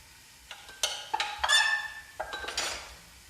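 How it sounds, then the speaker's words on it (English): Metal clanks and scrapes as frying oil is drained off a skillet, with several sharp pan knocks and a short pouring, sizzling rush in the middle, close and clear. "I'm going to drain the oil off."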